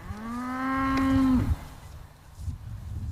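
Cattle lowing on a farm, one long, loud moo that rises and then tails off, followed by quieter rustling and shuffling in the background.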